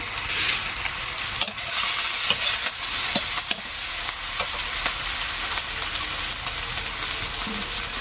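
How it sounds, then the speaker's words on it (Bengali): Onion and chili stirred while frying in oil, a steady loud sizzle with scraping and tapping of the spoon throughout, no voices. "শুধু পেঁয়াজ লঙ্কা তেলে দিয়ে নাড়াচাড়া করে দিয়েছি"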